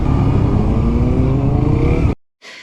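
A loud, close motorcycle engine drones at a steady high rev, then cuts off abruptly, followed by a brief fainter burst of noise.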